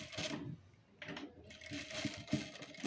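Sewing machine stitching a hook strip onto a blouse, quiet close bursts of rapid mechanical clatter separated by short pauses, with soft handling noises between runs.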